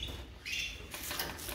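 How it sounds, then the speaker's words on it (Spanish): Small caged birds in a breeding setting chirping in a brief, faint flurry of tweets over a soft background hum. "Hay pájaros, fijaros."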